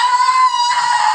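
A voice lets out a loud, sustained high-pitched horror-film scream, imitating the kind of shriek heard when a boyfriend's head gets chopped off, close and piercing for about a second.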